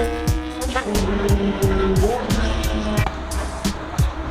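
A car at a race event, heard as a loud close engine revving up and down through repeated gear shifts, with sharp transient clicks throughout and no speech.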